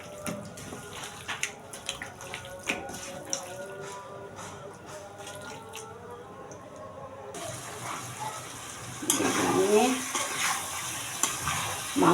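Beef chunks are stir-fried in oil in a pan with spatula scrapes and clinks at first, then a louder burst of sizzling as the meat is stirred, with steady crackle continuing to the end.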